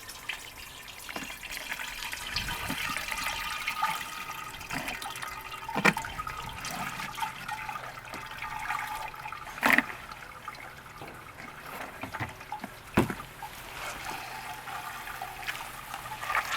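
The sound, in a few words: water draining out of a bucket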